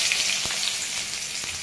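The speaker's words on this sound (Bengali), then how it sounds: "পেঁয়াজটা ভেজে নেবো লাল করে।" Onions frying in hot oil in a pan, with a dense, even sizzle close up and a couple of faint stirring taps.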